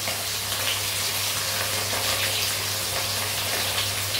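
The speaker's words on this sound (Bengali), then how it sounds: "এবারে আর এক পিঠ উল্টে আমি ভেজে নিচ্ছি" Fresh catla fish fillet frying in hot oil in a kadai after being flipped, giving a steady, dense close sizzle with a low hum underneath, no talk.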